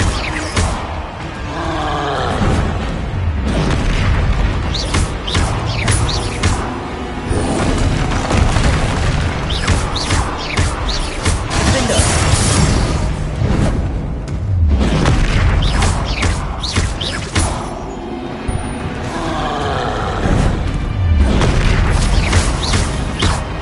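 Repeated booming blasts from Confringo spells in the Hogwarts Legacy video game, loud and continuous over roaring, rumbling combat sounds for the whole stretch, with several heavy impacts stacking close together.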